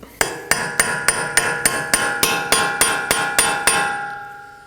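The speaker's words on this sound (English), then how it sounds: "So place it in and hammer it" A hammer strikes a center punch set into a CV axle on a 2020 Toyota Corolla, giving about a dozen sharp, ringing metallic blows at a steady, even pace, loud and close, with no talk.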